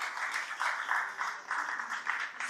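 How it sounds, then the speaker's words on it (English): Steady applause fills a seated audience at a startup pitch event, broad clapping swelling and easing in waves for about two and a half seconds with no voices on top. "we can have a huge round of applause for everybody making it on time here today"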